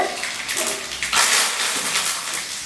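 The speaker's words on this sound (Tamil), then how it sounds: "இப்போ வந்து நம்ம கடுகு போட்டு தாளிச்சுக்கிறோம்" Mustard seeds tempering in hot oil for a brinjal tamarind kuzhambu, giving a close, steady sizzling hiss with faint crackles that swells briefly partway through.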